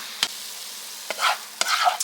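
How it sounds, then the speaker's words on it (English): Taco sauce is stirred into frying Tex Mex leftovers in a pan, with three or four sharp scraping strokes over a soft sizzle, close and fairly quiet. "I'm going to get that stirred up in there"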